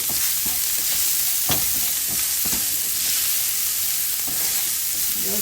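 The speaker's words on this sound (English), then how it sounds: "I'm just going to add a little bit of olive oil to the pan again, and going to be adding, this is onions and garlic." Onions and garlic fry in olive oil in a pan, a dense continuous sizzle close up, broken by a few stirring scrapes and clacks.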